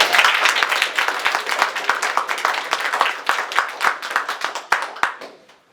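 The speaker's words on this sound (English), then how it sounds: "So give these 4 a round of applause." A small audience at a weekly tech talk applauds four participants after a demonstration, with dense, steady clapping that stays close and lively for several seconds before thinning out at the end.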